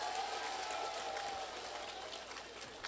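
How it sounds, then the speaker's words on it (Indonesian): A crowd at a Javanese anniversary stage show claps together, a faint, distant wash of applause that holds steady for a few seconds. "Tepuk tangan dulu dong."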